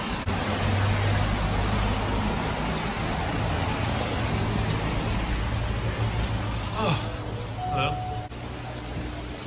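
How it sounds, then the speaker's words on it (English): Steady rain pouring down with a constant hiss, traffic rumbling faintly underneath. "Guys, it's raining."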